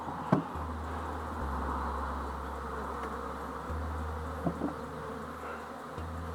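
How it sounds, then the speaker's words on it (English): Honey bees reorientating around their hive give a steady, close buzzing drone that rises and falls as individual insects pass near, with a few soft knocks and no talking. "We got bees reorientating."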